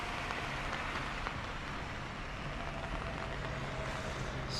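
A rain shower falls steadily around Jozankei Onsen as an even, dense patter that carries on without a break for the whole stretch, with no voices.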